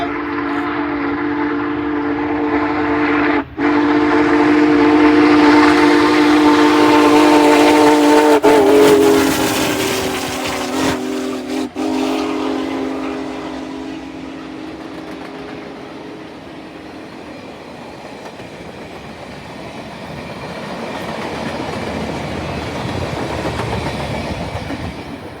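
Union Pacific Big Boy 4014 steam locomotive rolls past, its whistle sounding in long sustained tones over heavy rumbling and wheel clatter, loud at first and gradually fading as the train moves away.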